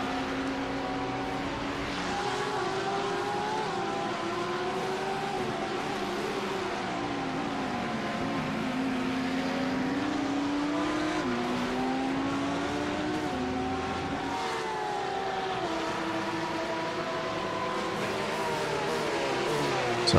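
Audi and Porsche GT3 race cars lapping Hockenheimring in the iRacing sim, engines revving and shifting continuously through gears with several cars audible at once, a sustained loud drone of overlapping pitches rising and falling.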